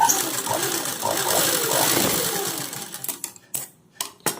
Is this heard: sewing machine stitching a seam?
yes